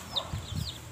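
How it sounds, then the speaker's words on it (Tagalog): A chicken with an injured leg, kept in a home garden, gives a few short, soft clucks in a single quiet second, close by. "Manok ko."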